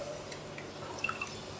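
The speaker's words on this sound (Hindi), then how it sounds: "उसमें डालेंगे गाढ़ा गाढ़ा इमली का पल्प" Thick tamarind pulp goes into a cooking pot over a medium flame, heard as faint wet drips and soft squishy splats, a few small ones near the end, in a quiet kitchen.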